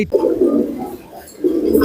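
A male Tiger Racer pigeon coos close up in two loud, throaty rolling phrases separated by a brief pause, with no one speaking.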